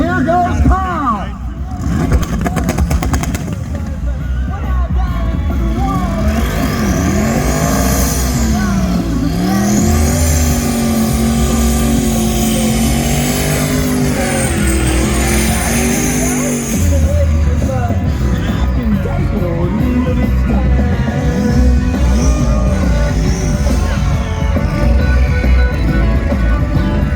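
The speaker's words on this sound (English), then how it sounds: "is ready to make some noise and some burnouts" At a Powerfest drifting and burnout show, a car doing burnouts roars and revs hard over a long stretch, its engine pitch sweeping up and down. Squealing tires and crowd noise run underneath, and an announcer talks over part of it.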